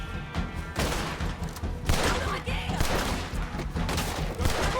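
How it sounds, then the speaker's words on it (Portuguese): Gunfire in the Red Dead Redemption II video game, set during a Saint Denis high-society mission, crackles in dense, overlapping bursts of shots and booms, fairly loud and continuous, with faint voices mixed underneath. "Não sei nem de onde eu tô tomando tiro, velho."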